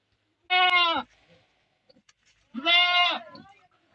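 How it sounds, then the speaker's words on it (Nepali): Goats in a village give two loud, close bleats, each about half a second long, separated by a quiet gap with faint rustling. "बाख्रा।"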